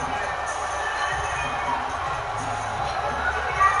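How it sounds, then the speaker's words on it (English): Steady crowd roar in a football video game, a constant broad wash of stadium noise with faint cheering, heard throughout at moderate level without clear peaks. "Is the crowd noise loud enough?"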